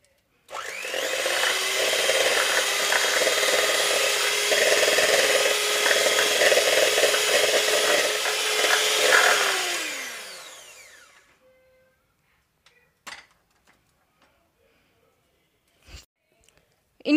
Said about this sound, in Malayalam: ഇനി നമുക്കിതൊന്ന് ബീറ്റർ വെച്ചിട്ട് മിക്സ് ചെയ്തെടുക്കാം